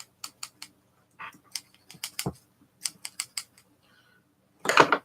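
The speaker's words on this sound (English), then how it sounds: "That clicking's me with my scissors." Scissors snip in short, sharp, close clicks at an uneven pace during a home haircut indoors, heard alone and followed by a louder rustle at the end.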